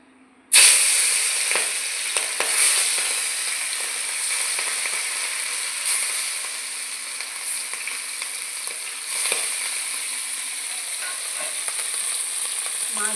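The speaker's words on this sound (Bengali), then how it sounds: "এবার আমি মাছগুলো ভেজে নেব।" Hilsa fish pieces fry in hot oil in a wok with a loud, continuous bright sizzle that starts abruptly and holds steady throughout, with occasional crackles and pops.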